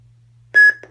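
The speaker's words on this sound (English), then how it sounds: "push and hold until it beeps" Katana Vader FX lightsaber giving a short electronic beep when its button is held, one bright tone followed by a quick second blip, close and clean over a low hum.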